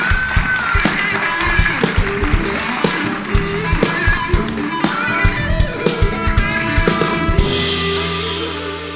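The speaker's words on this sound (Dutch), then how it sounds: "Dames en heren, een hartelijk applaus voor Christian Hesselman." Audience applause at a late-night tech talk show event, dense clapping with sustained music underneath that cuts off near the end.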